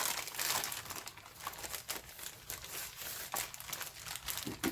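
Sheets of double-sided craft paper and stickers being handled close up, giving continuous crinkling and rustling in irregular bursts, fairly quiet.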